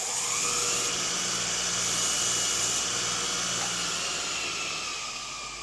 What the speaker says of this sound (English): I'm gonna do a quick little freshen up on this on the sander.